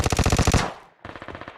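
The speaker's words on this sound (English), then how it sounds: "he's shooting at us" Enemy gunfire in PUBG Mobile, a rapid automatic burst of about ten loud shots, a brief pause, then another quicker volley, with no talking.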